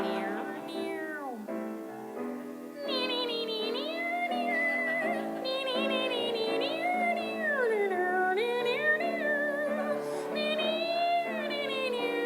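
A singer's voice imitates a cat meowing in a long, sliding, pitched wail, drawn out over several seconds at a cabaret show, loud and close, with melodic singing around it.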